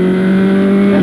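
A Ford Formula 1 engine in Michael Andretti's race car at the 1994 Australian Grand Prix drones steadily and loudly at a sustained pitch, an even high-revving tone with no talk over it.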